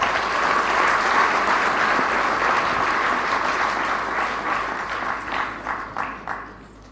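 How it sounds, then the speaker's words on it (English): An audience at the launch of a national cancer summit in Kenya gives a warm round of applause. It starts full and steady, then fades into scattered individual claps. "Another warm round of applause for Madam CS."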